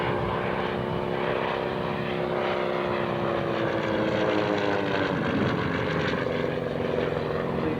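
A Percival aircraft that has just landed at a 1996 airshow at Shoreham airport runs its propeller engine with a steady, loud drone and a slowly shifting pitch, a constant rumble throughout.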